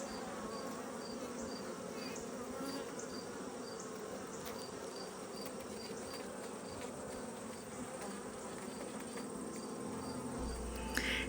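Honey bees buzz steadily around a hive, a dense, continuous drone from many insects, even in loudness throughout and close by with no voices.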